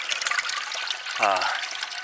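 Water from a full mining tailings pond near the Thompson River spills over in a steady, soft trickling flow, with a brief voice sounding over it.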